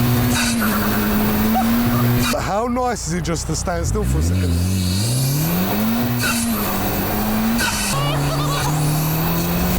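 A car worth about £80,000 is taken out on a test drive, its engine note rising and falling through gear changes, with a loud whoosh of passing traffic and people talking inside the cabin throughout.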